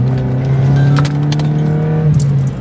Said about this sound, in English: this loud, modded Vauxhall Corsa